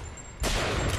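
Gunfire in the video game BioShock Infinite: a sudden loud burst of shots erupts after a brief quieter moment and stays dense and close to the end.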